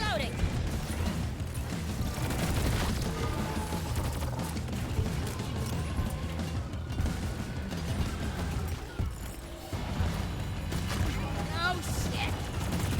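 Dense, continuous gunfire and clattering impacts in a fantasy shooter video game, steady and loud throughout, with a character's voice shouting over the shooting.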